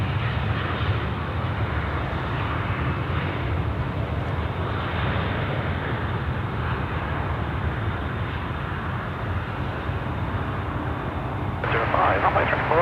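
A fixed-wing aircraft on the runway at Sydney Airport roars steadily and loudly throughout, a continuous broadband engine drone, with a brief change in tone near the end.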